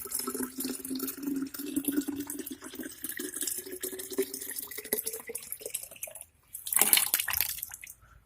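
Water runs into a 1 litre plastic sprayer bottle, a steady pouring stream with a brief pause and a louder splashing burst near the end, close by and alone.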